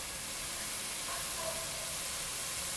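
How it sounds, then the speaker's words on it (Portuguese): Onion and garlic fry with bacon in a pan, a steady, even hiss of sizzling that holds constant throughout without a break. "Agora nós vamos dourar essa cebola."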